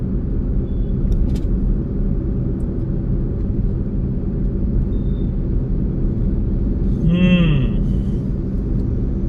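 A car crawling through a traffic jam in Gurgaon produces a continuous low engine and road rumble heard from inside, with a brief warbling horn-like tone near the end and no clear talk.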